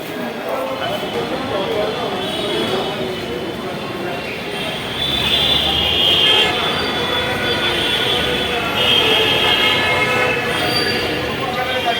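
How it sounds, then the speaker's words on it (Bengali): A metro train rumbles steadily through Karunamoyee metro station in Kolkata, loud and close, with crowd chatter and a brief squeal over the roar. "আমরা এখনও মেট্রো স্টেশনের ভেতরে আছি"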